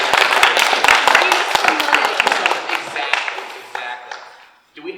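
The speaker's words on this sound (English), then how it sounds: "Let's give a round of applause for Zoe." Audience applause for Zoe on a studio couch talk show, dense clapping at first that thins out and fades over several seconds, with voices underneath.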